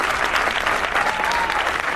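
Audience applause after an adapted sainete, a short comic theatre sketch, staged at an awards event for Asturias' Exemplary Village, heard as loud, dense, continuous clapping filling the whole moment.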